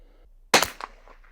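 A single sharp crack from a Bergara BMR .22 Long Rifle, loud and close, with a brief echo trailing off after the shot.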